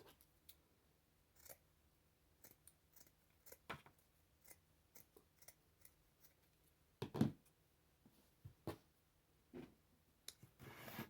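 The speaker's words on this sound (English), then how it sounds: "Just going to cut equal pieces of burlap." Scissors cut burlap into equal pieces for a spring flower pot craft, producing sparse, faint snips and clicks spaced irregularly across a quiet room.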